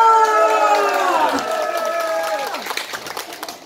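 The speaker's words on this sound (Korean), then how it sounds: "박수하고 함성 한 번만 더 주세요" At a Korean gakseori madangnori pumba stage show, a drawn-out, sliding shout from a voice opens, then breaks into crowd cheering and scattered clapping that crackles on at moderate volume.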